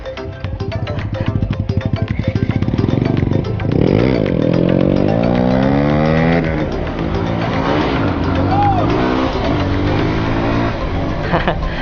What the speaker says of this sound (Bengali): এক্সস্ট তো টু মাচ লাউড।